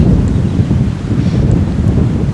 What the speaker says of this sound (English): 25-mile-an-hour winds, gust to 30 and 40.